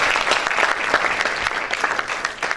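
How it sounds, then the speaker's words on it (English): Audience applause closing a yoga meditation techniques session, many hands clapping in a dense, lively patter with individual claps standing out, fairly loud and steady with no voices on top. "kindly give a big round of applause"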